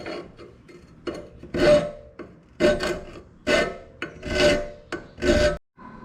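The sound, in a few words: grinding off a tack weld on an exhaust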